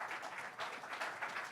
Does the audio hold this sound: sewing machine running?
no